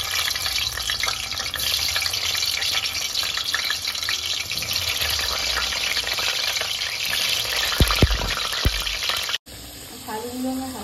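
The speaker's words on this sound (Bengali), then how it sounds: "এবার তেলের মধ্যে আলুগুলোকে ছেড়ে দেবো" Potatoes fry in hot oil in a wok for a biryani, a loud, steady sizzle crackling without pause for about nine seconds, with a few soft clanks near the end before it cuts to a quieter passage.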